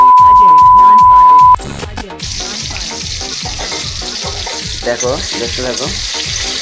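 Pumpkin pieces fry in a hot pan with a loud, crackling sizzle and rhythmic stirring strokes, preceded by a short electronic beep and a brief spoken line.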